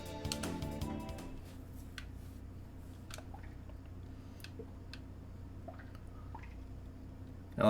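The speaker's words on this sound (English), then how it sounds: "I love the water dripping sound" Water drips in the Chrono Trigger video game as sparse, faint plinks scattered irregularly over a quiet hum, after a brief burst of game sound at the start.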